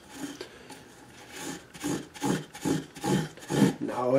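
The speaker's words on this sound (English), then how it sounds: "go over the frets one more time, get rid of pretty much all the sanding scratches" Steel wool rubs rhythmically back and forth over the metal frets of a soprano ukulele under construction. The strokes are close and steady, each one a raspy scrape that grows slightly louder as the pass continues, with no talk.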